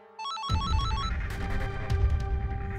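An electronic phone ringtone plays a short melodic run of tones, then gives way to a louder, busy indoor background wash.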